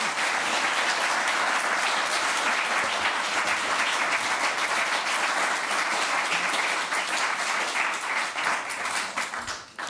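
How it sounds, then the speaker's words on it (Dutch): An audience at an evening talk on the war in Afghanistan gives sustained, even applause that stays loud and steady for the whole stretch. "Geef graag een applaus"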